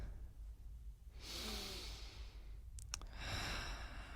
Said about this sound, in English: Breathe in through your nose and out through your nose.